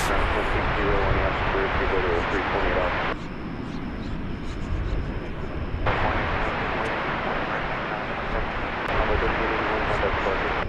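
Jet airliners at DFW Airport lined up for takeoff give a continuous loud roar of engines, broadband and steady, with a brief dip midway before the rumble swells back.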